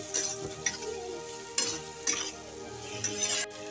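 Soybean and paneer masala, loosened with a little water, sizzles steadily in a pan while being stirred and scraped. Distinct stirring strokes stand out over the continuous frying hiss.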